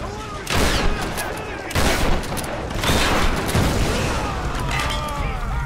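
Rapid bursts of gunfire fill the Tomb Raider game's firefight, loud and dense with repeated volleys and short pauses, apparently shot through a wooden barrier.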